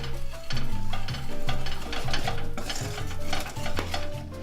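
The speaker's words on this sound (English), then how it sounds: "And then we're gonna put our hot butter. Just gently stir it in to reheat." Hot butter is gently stirred into a pan to reheat it for eggs Benny: a close, continuous sizzle with rhythmic swirling pulses from the stirring and no voice.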